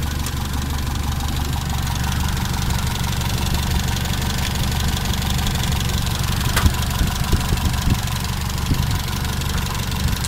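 A car engine idles at about 720 RPM with a steady close low rumble and fine rapid ticking, constant in level throughout, with no talk over it.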